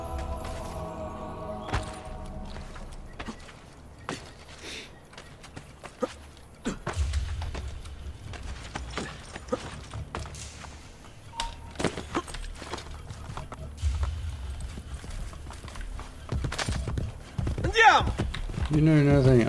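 Horse hooves clip-clopping during a ride in Assassin's Creed Brotherhood, a steady patter of hoofbeats mixed with other game sounds while someone talks over it.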